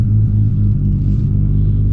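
A modified, high-spec 1993 Nissan R32 GT-R engine gives a loud, steady, deep rumble close by, with no talking over it.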